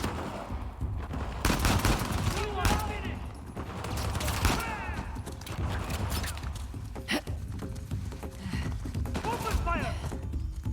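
Bursts of gunfire from the video game Uncharted: The Lost Legacy crackle in rapid volleys and single shots, with shouting voices mixed among the shots throughout.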